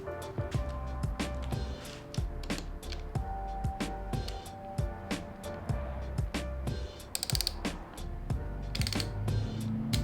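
Tightening a MotoGadget bar end mirror down on a motorcycle handlebar: a quiet, close series of irregular ratchet clicks and small metallic taps, with faint handling noises between them.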